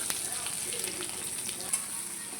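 Chopped garlic fries in hot oil with cumin seeds, bay leaf and dried chili for a fish dish, giving a steady, close, even sizzle with a few small crackles throughout.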